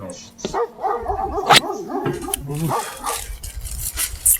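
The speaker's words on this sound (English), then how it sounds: "Bella keeps barking, keeping him at a distance" A dog barks and yips several times in an irregular burst, fairly close, with some whining between the barks.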